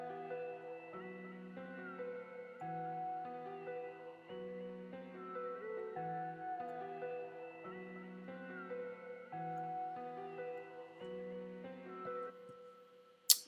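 A reversed melodic sample plays back in an NNXT software sampler at normal speed, with layered sustained synth-like notes moving in a slow chord pattern, clean and moderately quiet, ending on a brief click.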